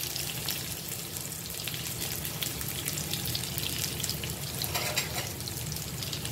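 Sliced onions and green chilies fry in oil for a village-style mutton curry, giving a steady, soft, even hiss that runs unbroken throughout.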